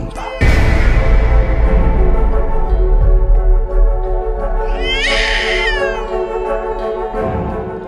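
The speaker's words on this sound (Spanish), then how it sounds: "Han escuchado El gato negro, de Edgar Allan Poe." A black cat yowls loudly and drawn-out over heavy, sustained dramatic music in an audiobook of Edgar Allan Poe's The Black Cat, the cry rising out near the end.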